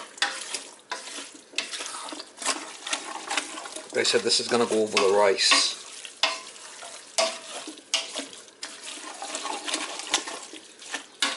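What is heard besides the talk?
stirring vegetables simmering in pan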